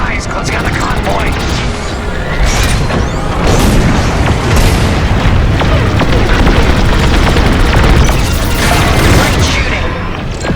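Dense, loud starfighter combat in Star Wars: Squadrons, with blaster fire, booms and roaring engines forming a continuous barrage of overlapping bursts.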